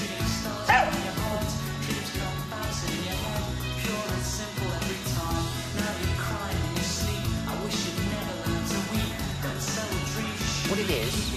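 Dogs vocalise along with music played in a television studio, yips and bow-wow barks over a steady musical backing that continues throughout, with some talk mixed in.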